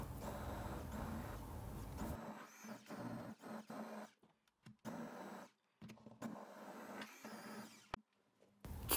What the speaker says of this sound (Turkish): Blenderla pürüzsüz olana kadar çekiyorum.